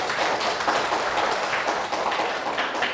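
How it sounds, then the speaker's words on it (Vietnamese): Dense, steady applause from a classroom of students for a presenting group in a lesson on nitrogen for crops, continuous and fairly loud for the full stretch with no talk over it. "Một lần nữa chúng ta cho nhóm 1 một tràng vỗ tay."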